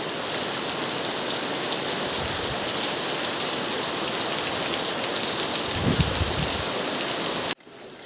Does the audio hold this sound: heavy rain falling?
yes